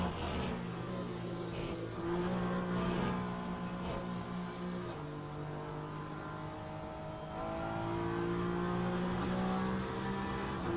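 A Peugeot race car in a racing video game holds a steady, loud engine drone whose pitch climbs and settles, with revs rising and falling throughout and no voices.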